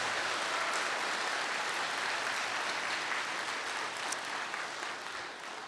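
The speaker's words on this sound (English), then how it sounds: "please give the IDYCA staff a round of applause" A commencement ceremony audience gives sustained applause for the school staff, a thick, continuous roar of many hands clapping at steady loudness, easing slightly near the end.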